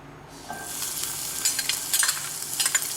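Onions and tomatoes fry in coconut oil in a pan with a soft, crackling sizzle and occasional stirring scrapes, close by and with no talking.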